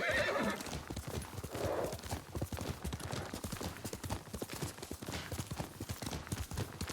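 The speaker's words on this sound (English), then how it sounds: "Oh, there's a horse." In the video game Ghost of Tsushima, a horse's hooves clip-clop in a steady rhythm, with a whinny early on, heard up close over faint ambience.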